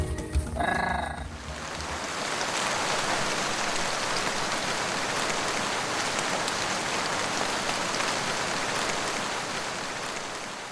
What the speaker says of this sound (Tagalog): Grabe, wala pa rin tigil yung ulan.